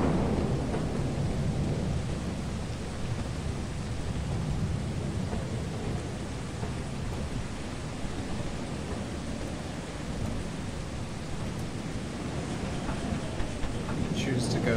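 A thunderstorm in the video game Lethal Company: a dense, steady wash of rain with deep rolling thunder that holds loud and unbroken throughout.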